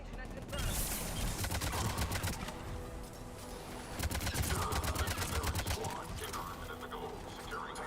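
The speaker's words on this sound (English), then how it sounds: "Taking enemy fire." Rapid gunfire bursts in the Mass Effect 3 video game, two stretches of loud rattling shots amid battle noise, with game voices faintly present.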